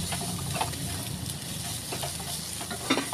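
Beef sautéing with chili powder in a hot pan gives a steady close sizzle, with stirring scrapes and clicks scattered throughout.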